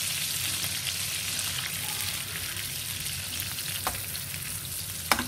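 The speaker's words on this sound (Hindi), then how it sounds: "प्याज को हम गोल्डन ब्राउन करेंगे" Chopped onions fry in melted fat in a pot, browning for a mixed daal and mutton dish; a dense, continuous close sizzle with occasional light pops and a faint clink near the end, no talking.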